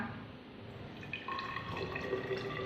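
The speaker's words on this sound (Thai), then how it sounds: "ก็จะเปิดฝา ขวดน้ำแล้วก็ เทลงไปเลยนะคะ" Distilled water poured from a bottle in a chemistry lab, a soft continuous trickle and gurgle lasting a few seconds, quiet and alone.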